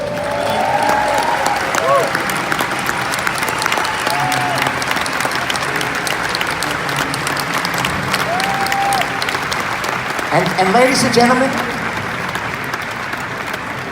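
A Star Trek convention audience in Birmingham gives loud, sustained applause for guest stars, a dense wash of clapping and cheering that carries on under someone speaking into a microphone.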